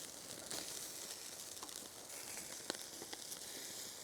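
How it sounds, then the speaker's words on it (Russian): Pieces of liver for a Crimean Tatar jiger-kebab sizzle steadily in a hot pan, a dense constant crackle with occasional sharper pops, close by and with no one speaking. "Здесь начало жариться."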